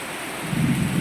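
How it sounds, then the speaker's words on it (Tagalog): Heavy rain pours down steadily during a drive, and a low rumble of thunder swells up in the second half of the short stretch, with no voices. "Grabe lakas ng ulan."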